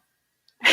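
A single sharp human sneeze bursts out near the end after near silence, loud and close.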